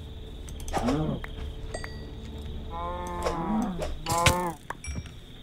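Cows mooing in the video game Minecraft, three drawn-out moos spaced a couple of seconds apart over a low background hum, moderately loud.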